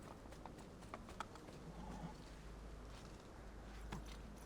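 Horse hooves clip-clopping in the video game Assassin's Creed II: Remastered, a faint, steady trotting rhythm under low ambient background noise, with no speech.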